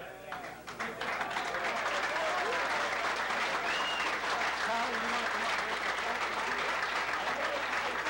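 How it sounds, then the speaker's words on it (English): A crowd at a Dodgertown Hall of Fame event bursts into sustained, loud applause that builds quickly and keeps going steadily, with scattered voices and cheers mixed into the clapping. "the trainers deserve a round of applause"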